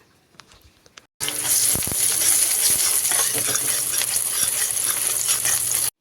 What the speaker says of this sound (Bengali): তো এগুলোকে আমি তেলের সঙ্গে কিছুক্ষণ জাল করে নিচ্ছি।